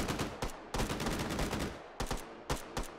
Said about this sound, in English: No shooting. Stop shooting.